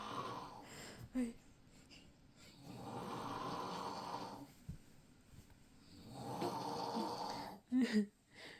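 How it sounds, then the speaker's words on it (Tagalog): A man snores in two long, rasping breaths with pauses between, close by, with brief snorts and small sounds in the gaps. "Humihilik. Hindi siya nakikipaglaro."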